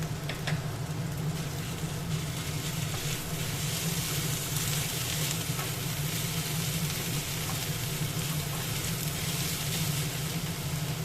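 Onion and minced chicken with ginger-garlic paste fry in a pan, giving a steady, close, continuous sizzle that holds evenly throughout with no talk.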